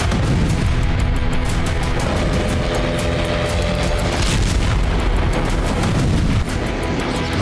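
Missile strikes on Ukraine, including Russian Iskander missiles, produce loud, continuous rumbling booms and blasts that overlap densely throughout, with no pauses between them.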